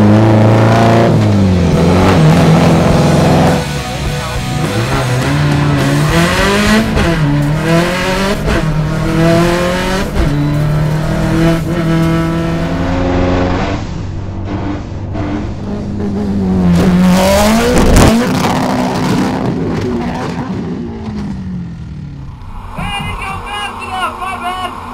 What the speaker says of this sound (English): A lot of fun flying this car. It had more power than I thought it was going to.